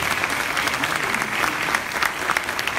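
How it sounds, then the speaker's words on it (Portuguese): Church congregation at a Baptist New Year's Eve service applauding, a dense, steady burst of many hands clapping together in a large room. "Luiz, você pode aplaudir ao Senhor pela vida deles?"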